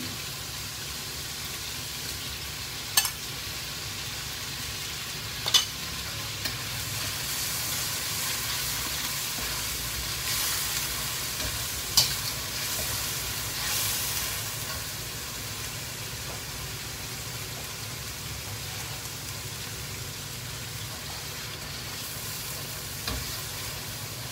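Steady sizzling and hissing of chili paste frying in a pan, with a few sharp clinks of a utensil stirring, no voices.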